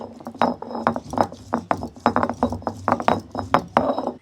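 Cardamom pods are ground raw together with cinnamon on a stone grinding slab, giving a steady run of sharp scraping and clicking strokes, close and fairly loud, with no talking.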